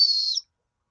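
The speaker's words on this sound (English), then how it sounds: "why do you have a reindeer whistle?" A reindeer whistle gives one sustained high, steady whistling tone lasting under half a second, close and clear, followed by silence.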